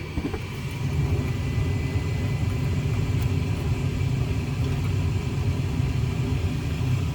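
A Lennox G60UH gas furnace burner lights after a quiet moment and settles into a steady, close, low roaring rumble that holds evenly.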